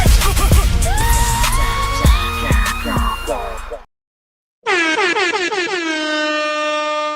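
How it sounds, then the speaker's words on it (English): Loud blaring air horns, first a chaotic burst of honks and bangs, then after a brief silence one long sustained horn blast. "appreciate you for the air horns"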